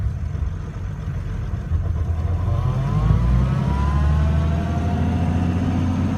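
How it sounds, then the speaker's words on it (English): Vehicle engine running at slow idle, a steady low rumble with a faint rising whine partway through, heard close and fairly loud with no talk. "There's what slow idle is like."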